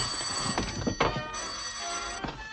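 An old-fashioned telephone bell rings in a vintage comedy film, a close, bright ringing that carries through the short moment with a soft thunk partway through.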